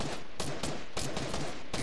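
Rapid gunfire in Fortnite Creative on the original Season One map, a string of sharp, loud shots bursting every fraction of a second over a dense, noisy background of game sound, with no voices over it.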